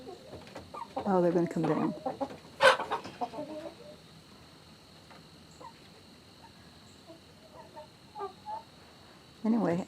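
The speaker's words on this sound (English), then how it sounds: "Chickens have gone up to roost." Chickens settling on their roost in a winter coop give a few soft clucks and brief squawks, with longer quiet gaps between them, while a person talks nearby.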